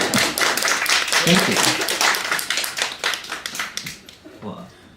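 Audience clapping at a poetry reading at a literary house, a small crowd's quick, uneven applause that is loud at first and then thins into scattered claps, while a voice speaks briefly over it.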